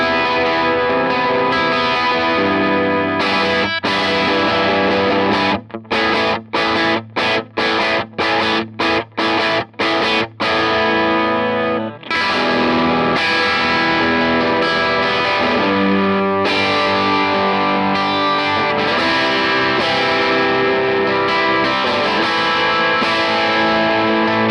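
Electric guitar played through a Tone King amplifier with the volume turned up, distorted and thick with effects, a run of sharp staccato chord stabs separated by brief silences, then sustained, driven strumming throughout with no talking.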